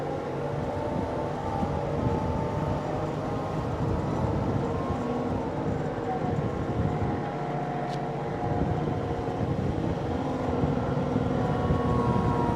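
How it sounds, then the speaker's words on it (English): Diesel engine of a Kioti CK2610SE HST cab tractor with loader, idling on packed gravel as the throttle is raised, a steady close rumble whose pitch climbs gradually with a faint tonal whine and no talk. "You'll hear the engine RPMs going up a little bit."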